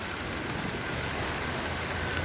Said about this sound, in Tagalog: Uy, bakit ang lakas ng ulan?